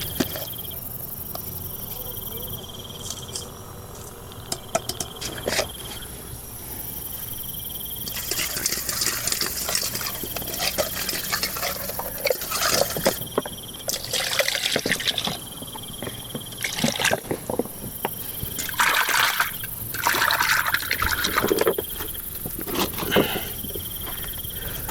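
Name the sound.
washing something in water with salt powder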